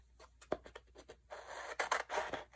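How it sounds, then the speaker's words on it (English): Scissors cutting through sticker paper close up, a series of soft snips and scraping rustles, quiet and alone. "we're going to cut the paper"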